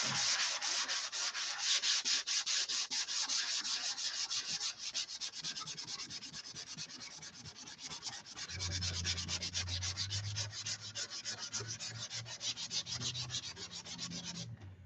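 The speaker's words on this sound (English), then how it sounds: "So let's sand this out." Steady sanding of a repaired wing on a Tucker XL, a continuous close, rough rubbing with a rhythmic back-and-forth scrape. A low hum joins in partway through.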